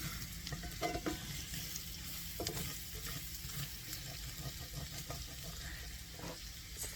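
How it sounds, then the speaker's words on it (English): Garlic fries in a pan with a soft, steady sizzle, broken by quiet scraping and stirring. The sound stays fairly faint and close, with no talking. "you just want to cook this garlic for just a moment until it starts letting off a good fragrance"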